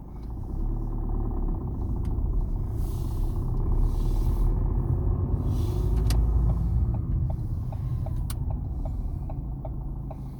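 A car drives on a road between roundabouts, its steady engine and tyre rumble heard from inside the cabin, with a brief series of faint ticking clicks like an indicator partway through.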